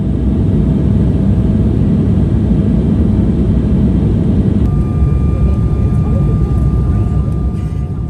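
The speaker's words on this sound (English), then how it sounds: "as we turned back around to line up for our final on runway 35 here at Canberra Airport this evening" Steady, loud cabin rumble fills a QantasLink airliner on evening final approach to runway 35 at Canberra Airport, with a thin steady tone joining partway through and no voices.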